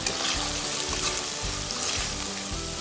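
Whisked curd stirred into hot frying masala for a Bengali-style pomfret curry, giving a dense continuous sizzle with rhythmic scraping of a spoon against the pan, close and loud, no voices.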